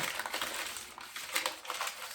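Paper crumpled by hand for an art project, a close, soft, continuous crinkling and crushing with brief louder bursts and no talk.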